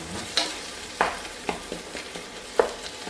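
Cooked chicken pieces for momos being broken up and stirred in a pan, a few sharp scraping knocks over a soft steady sizzle, close by with no talking.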